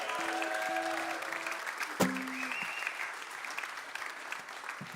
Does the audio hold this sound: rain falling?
no